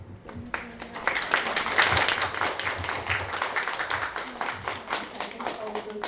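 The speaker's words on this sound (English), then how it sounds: "I think all of those responses deserve ample rounds of applause" A panel audience applauds, a dense wash of many hands clapping that swells after a moment and holds steady, fairly close, with a few voices faintly underneath.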